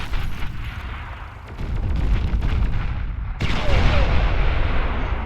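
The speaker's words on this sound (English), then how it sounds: "Nice D gun, that was very good." Heavy D gun fire in the real-time strategy game Beyond All Reason, a deep booming artillery blast that swells into a sustained rumbling roar, with a second loud surge midway, dense and continuous.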